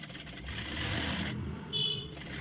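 Sewing machine stitching a back-hook blouse, a steady close mechanical whir with a rough, rasping texture that runs without pause, then lightens briefly near the end.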